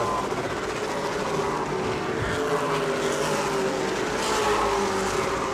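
Stock race cars at New Smyrna Speedway roar steadily in a continuous, loud engine drone that rises and swells as the field runs through the turns, with no talk over it.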